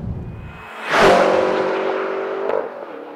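A 2013 BMW M5 with a manual gearbox accelerates hard. A loud rising engine roar surges in, then holds a sustained drone, with a brief mechanical clack as it shifts.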